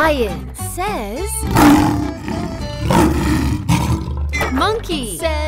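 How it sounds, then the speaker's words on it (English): A lion roars loudly in two or three long, rough bursts at close range, with bright cartoonish vocal sounds and music around them. "Lion says..."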